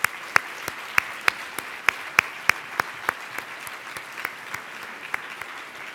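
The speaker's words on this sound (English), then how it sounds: "let's give them a big round of applause" Audience applause at a convention Saturday lunch, a steady wash of clapping with a few sharp, distinct claps standing out near the front, sustained and fairly even throughout.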